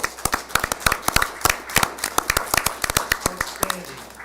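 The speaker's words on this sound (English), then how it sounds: "A round of applause for Jerry Jones" Scattered applause at a city council budget review meeting: a small group of distinct, sharp hand claps in an irregular, sparse rhythm, close and fairly loud, with a faint voice near the end.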